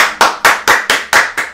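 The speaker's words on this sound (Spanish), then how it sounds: "un aplauso para Néstor Luaces." Seven sharp, evenly spaced handclaps sound close and loud as a raffle winner is applauded at a real estate talk.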